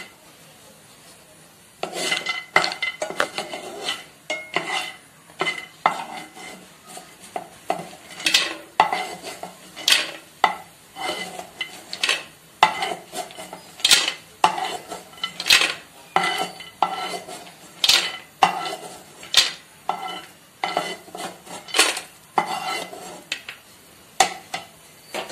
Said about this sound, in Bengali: আমার বাদামগুলো ভাজা হয়ে গেছে,